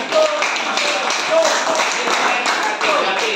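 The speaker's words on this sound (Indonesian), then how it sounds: "silakan tepuk tangan untuk kelompok 5 ya" Students in a classroom clap for a presenting group in a steady, dense patter of hands, with voices mixed in beneath.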